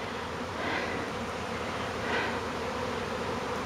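Honeybee swarm buzzing steadily outdoors near a hive box, a dense continuous hum from many insects with slight swells in intensity, no voices.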